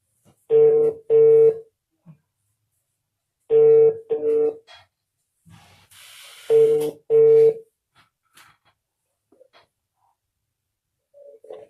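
Telephone dialing tones in three pairs of steady beeps, each pair separated by a short gap, followed by a faint hiss and scattered quiet clicks from the handset as a card-paid call is placed.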